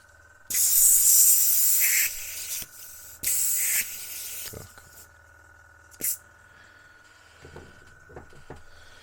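Airbrush or spray can hissing as a Tamiya M1A2 Abrams model part is spray painted, in two long bursts followed by a short puff, loud and close, with quiet pauses between.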